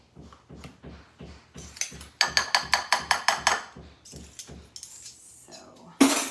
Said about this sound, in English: we'll use our whisk to whisk all that together